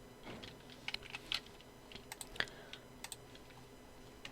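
Keys on a computer keyboard pressed in scattered single taps and short bursts of clicks during Adobe Illustrator shortcut work, fairly close but quiet over a low steady room hum, with no talking.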